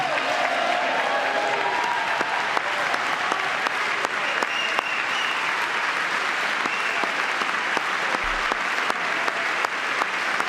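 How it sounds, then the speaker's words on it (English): Sustained applause from a large audience in the chamber of Congress during a presidential address, steady and dense for the full stretch with scattered sharper claps and no speech over it. "No Democrats will ever applaud for RFK Jr. ever again"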